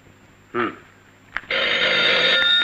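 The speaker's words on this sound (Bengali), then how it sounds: "রাজু ভাই, আপনার ফোন" A telephone rings in a police station scene from a Bangladeshi drama film, a bright sustained electronic bell tone starting after a short voice and a click, loud and continuous to the end.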